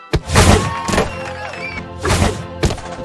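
Thuds and thwacks from an arcade basketball match in the video game Basketrio, with a short burst of game music and effects over repeated ball impacts at a lively, uneven pace.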